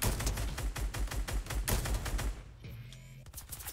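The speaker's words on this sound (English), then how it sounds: "You cannot shoot them with a shotgun that far away." Rapid gunfire from a Fortnite battle, loud and dense for over two seconds with repeated sharp bursts, then cutting off to a quieter game background with a faint tone.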